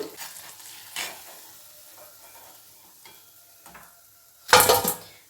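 Batter-coated flat bean slices fry in oil with a low, intermittent sizzle and faint clicks. Near the end a louder burst of bubbling and scraping comes as the pieces are moved.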